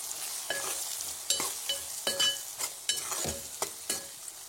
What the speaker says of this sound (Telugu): ఇప్పుడు కొంచెం ధనియా పౌడర్, ఇవన్నీ బాగా కలిపేసుకోవాలి.